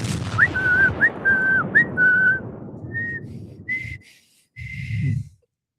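A man attempts to whistle, producing a run of short, thin whistled notes broken by breathy puffs, then a few weaker airy tones with gaps of silence.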